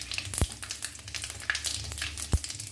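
Fennel seeds, two dried red chillies and two bay leaves frying briefly in hot oil, a soft, sparse crackle and spatter with a couple of dull knocks, heard quietly on its own.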